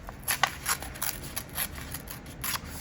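Scissors snip through paper while making paper pockets, about a dozen quick crisp cuts in a loose rhythm, close and moderately loud with no talk.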